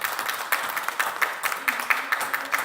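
A church congregation claps hands together in a lively, rhythmic offering of applause, close and steady, with a few voices faintly audible beneath.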